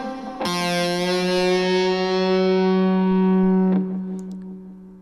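An electric guitar with fuzz plays the opening of a solo line: one thick, sustained distorted note rings for several seconds, then a second picked attack fades out, close and alone.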